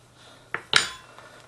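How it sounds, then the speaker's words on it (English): Metal fork piercing the skin of a freshly processed Pekin duck: two quick, close clinking stabs, the second sharper and brighter, followed by a faint tick. "There I'm just piercing the skin."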